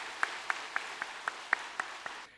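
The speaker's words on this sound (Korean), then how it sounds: "이 소중한 분들을 한 번 더 우리 박수로 환영하면 좋겠습니다" Church congregation claps to welcome first-time visitors, heard as eight evenly spaced claps in a steady rhythm, faint and somewhat distant, over a soft room hiss.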